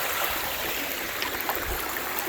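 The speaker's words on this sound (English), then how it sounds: "Water's still flowing good" A rain-swollen stream flows beside a hiking trail on the Ozark Highlands Trail, giving a steady, close, rushing burble with no voices.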